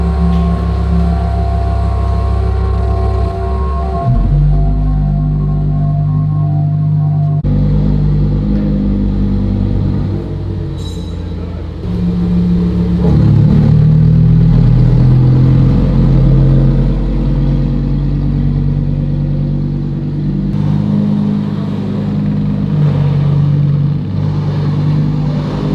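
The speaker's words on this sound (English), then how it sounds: "I hear something coming up the car elevator. Let's see what it is. Oh, it's a Huracan." Lamborghini Huracan engine rising up a car elevator, a steady loud mid-pitched drone with low rumble that swells after the first few seconds and holds close for the rest.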